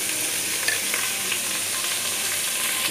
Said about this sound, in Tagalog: Haluin lang yung onion until it will become brown.